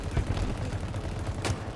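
Dense, continuous automatic gunfire in an 8v8 Halo Infinite match rattles close and loud without pause, with a sharper crack standing out near the end.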